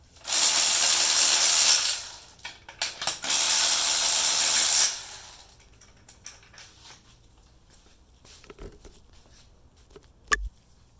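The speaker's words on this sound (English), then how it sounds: "I'm going to take them out with the electric ratchet to make it much faster" An electric ratchet whirs loudly in two long bursts, each lasting a couple of seconds, while removing spark plugs from a 2012 Honda Civic engine. Quieter metallic clicks and handling of tools follow once it stops.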